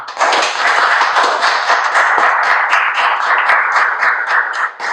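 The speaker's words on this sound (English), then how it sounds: "let's have a round of applause just for the parents and the siblings and the spouses and the friends that are here tonight" A crowded room at a Mason County Sports Hall of Fame induction ceremony bursts into steady, loud applause that holds for several seconds before trailing off.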